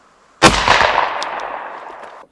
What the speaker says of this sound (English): Let's go ahead and see if we can put one over here at the left.